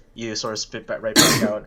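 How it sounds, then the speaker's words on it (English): A single cough bursts out right after a man's speech, loud and close, with a harsh breathy spread lasting about half a second amid casual conversation. "Wait, was that a cough?"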